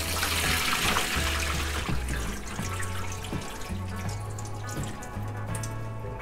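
Water from a can of crab meat pours steadily into a kitchen sink, making a continuous close splashing and gurgling sound over faint background music.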